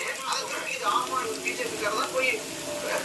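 Curry leaves frying in hot oil in a pan, a steady soft sizzle and crackle with faint pops throughout, under a person speaking.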